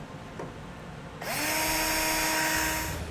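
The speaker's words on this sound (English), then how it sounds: "we can go ahead and drill out the remaining 2 holes on top on each side" A power drill bores holes through the body of a 2018 Chevrolet Sonic while a Blue Ox base plate is fitted. A faint click comes first, then the motor spins up to a loud, steady whine that holds for nearly two seconds, with no talk.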